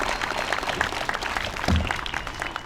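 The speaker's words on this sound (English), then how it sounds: "Let's give us all a giant applause." A graduation audience at a commencement for court and community schools claps continuously, a dense wash of many hands at steady volume.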